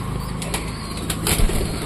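A newly acquired pigeon takes off and flaps its wings close by, a short burst of fluttering wingbeats with a louder flurry near the end, no talking.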